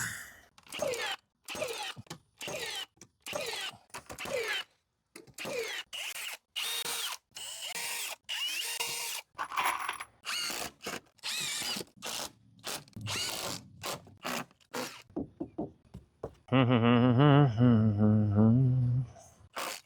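Power drill driving screws into wooden steps during a volunteer roof repair, heard as many short rapid bursts in quick succession, close and loud, ending in a longer steady whir.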